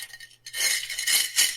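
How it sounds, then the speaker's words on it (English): Coins of mixed kinds, including quarters, nickels, dimes and pennies, rattle and clink inside a pickle jar being shaken, giving a bright, jangling wash in uneven surges. "If you guessed a pickle jar full of quarters, nickels, dimes, and pennies, you were correct."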